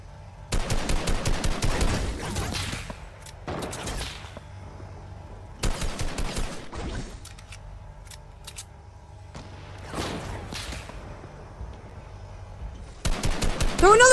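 Rapid bursts of sniper and automatic gunfire in a video game arena match, loud and close, coming in several clusters separated by brief lulls with faint background game sounds.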